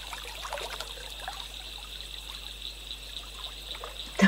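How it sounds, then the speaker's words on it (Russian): A clean stream trickles and babbles over small pebbles, a steady, close, moderately soft flow of water with little bursts of splashing, alone with no voices. "Как вода бежит по камешкам, чистая, журчащая"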